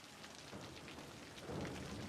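Rain falling in the city-building game Cities: Skylines, a steady faint hiss of downpour with a low rumble swelling toward the end.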